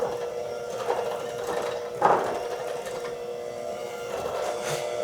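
Electric mixer beating molasses sugar cookie dough in a bowl, a steady close whirring drone with a brief louder strain partway through and no talking.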